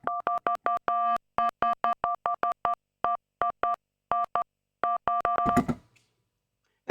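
Synthesized DTMF phone tones built in Bitwig play as a rapid run of loud, clean beeps in irregular groups, ending in a short burst of harsh noise before silence.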